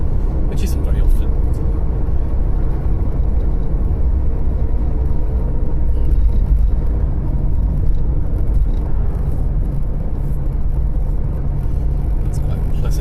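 A red 1.3-litre petrol Ford Fiesta Mk4 driving along a valley road, heard from inside the cabin: a steady, close, low engine and road rumble with tyre hum that holds an even level throughout.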